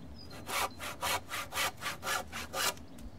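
A hand saw cuts through a wooden polytunnel door post in about eight steady back-and-forth strokes, each a rasping burst, close and fairly loud.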